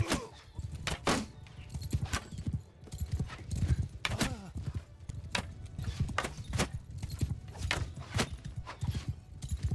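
Cavalry horses in a Mount & Blade II: Bannerlord battle pound past with fast, clattering hoofbeats, close and continuous, as occasional whinnies break through the thudding gallop.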